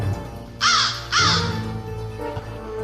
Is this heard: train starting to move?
no